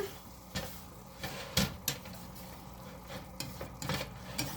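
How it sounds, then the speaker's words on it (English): A quick stir of a pot of chicken samosa filling, faint scrapes and knocks of a spoon against the pot over a soft background sizzle, a few sharper clacks standing out. "I'm going to give it a quick stir."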